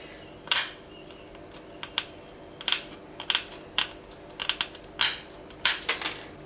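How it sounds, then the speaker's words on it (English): Tin snips cutting along a line in a metal stereo bracket for a Hyundai Accent or Getz: a series of sharp, close crunching snips at an uneven pace, with no one talking. "we grab a pair of tin snaps, and we want to cut down this line here"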